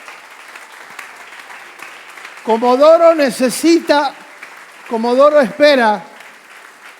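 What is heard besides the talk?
congregation applauding in church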